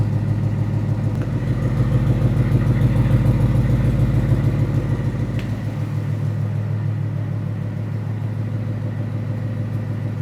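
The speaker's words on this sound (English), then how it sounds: "Looks like this guy's got some major exhaust leaks." A Ford F100 with a swapped Coyote V8 idles loud and close, its exhaust leaks adding a rapid ticking puff over a steady low rumble. About halfway through, the lowest rumble drops away while the idle continues.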